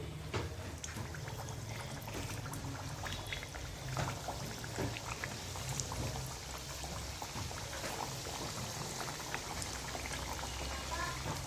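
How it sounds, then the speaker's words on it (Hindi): Onion kachoris deep-frying in hot oil, Jodhpuri halwai style, a dense steady crackle and bubbling fizz that runs unbroken and fairly close throughout, with no voices. "अब हम दूसरा बैच भी इसी तरह से फ्राई कर लेते हैं"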